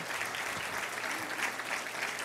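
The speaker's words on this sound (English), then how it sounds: "can we please just give a round of applause" Steady crowd applause at a gala, a brief wash of many hands clapping at a moderate level with no pause.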